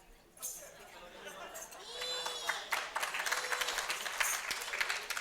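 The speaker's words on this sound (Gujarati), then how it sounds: "એ તાળી પાડે છે." Clapping rises at a religious gathering for Mother's Day. It begins sparse and grows into a lively burst of hand claps, mixed with chatter and children's voices nearby.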